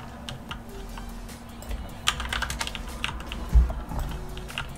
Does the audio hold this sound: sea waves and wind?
no